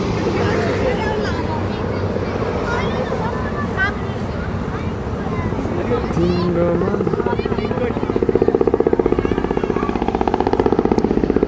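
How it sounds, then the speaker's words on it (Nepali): A helicopter at a Navy Day event, its rotor thumps and engine roar running continuously and close, growing louder toward the end, while people talk over the noise. "हेलिकप्टर"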